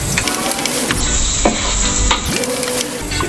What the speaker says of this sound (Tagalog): dito natin igigisa yung mga ricado